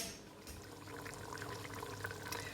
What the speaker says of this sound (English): it's bubbling up nicely now, and you just need to make sure that your fruit is well covered with the juice